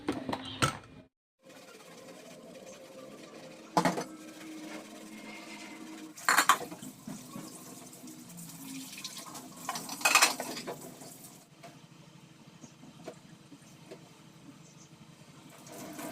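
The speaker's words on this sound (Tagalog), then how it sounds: "hugasan ko na lang muna yung mga natirang hugasan dito bago ako mag-gym" Dishes being washed by hand in a home kitchen sink, with steady running water and occasional clinks of plates and utensils. Sharper knocks stand out now and then over a continuous wash of water noise. No one speaks.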